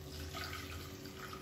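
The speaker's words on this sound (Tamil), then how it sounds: "சுடுதண்ணி வந்து சேர்த்துக்கோங்க" Hot water is poured into a cooking masala in a home kitchen, giving a steady, soft rushing pour that runs continuously and fairly quietly throughout, with no talking.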